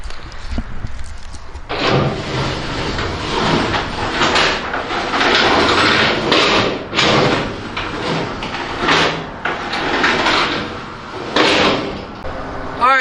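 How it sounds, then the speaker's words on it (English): Inverted rack and pinion floor doors on a KT Pacer 18-foot bulk feed body mounted on a 2011 Peterbilt 365 operate with loud, steady mechanical sliding and rumbling, broken by several clunks and knocks, close and continuous. "here's the inverted rack and pinion floor doors"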